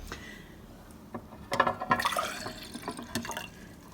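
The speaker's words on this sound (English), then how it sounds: "all you did was pour this water into this glass" Colored water poured into a glass, a soft splashing and trickling that builds in the middle and tapers off, fairly quiet and close.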